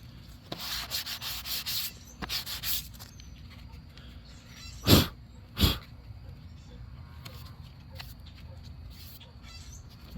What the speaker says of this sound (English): this is how it's supposed to sand